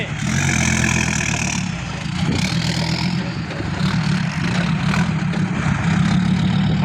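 A tractor engine runs steadily nearby, a loud, continuous low rumble with a droning hum that rises slightly in intensity now and then over about seven seconds.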